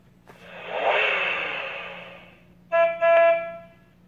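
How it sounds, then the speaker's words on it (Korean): A Dash robot plays a truck sound: a broad rumbling whoosh that swells and fades over about two seconds, followed by two short tonal honks, heard up close with no talking. "트럭 소리를 내도록 한다라고 합니다."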